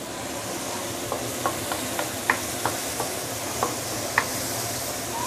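Spice paste containing dried shrimp sautés in oil in a pan for fried mee siam, giving a steady close sizzle broken by a series of light spatula taps and scrapes.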